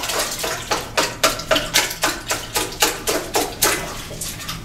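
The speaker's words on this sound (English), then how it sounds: "I'll take a cotton or a nylon swab and just push the water" A cotton or nylon swab plunges into a restroom toilet bowl, forcing water past the trap in about a dozen rhythmic sloshing surges, close and fairly loud, with no speech.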